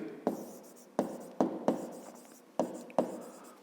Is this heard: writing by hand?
yes